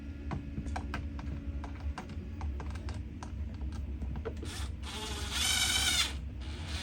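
A screw is driven into the wall to hang a Dremel organizer, a run of light ticking clicks from the driver followed by a brief louder whirring burst near the end, over a steady low background hum.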